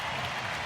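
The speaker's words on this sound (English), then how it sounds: "Big hand from the crowd here to see that." A baseball crowd at a Mets–Angels game applauds in a short, dense burst of clapping that fills the stadium.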